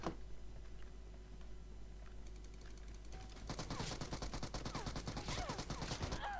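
Gunfire in a shooter video game: a low steady hum gives way to a rapid, continuous burst of automatic shots during the second half, fairly faint overall.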